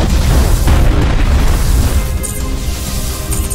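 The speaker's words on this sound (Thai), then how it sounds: "ใช้มิสซายยิงไปก่อนนะจังหวะนี้" Missiles launching and exploding in the mech video game MASS Builder, a loud, dense barrage of booming blasts and rumble that thins slightly toward the end.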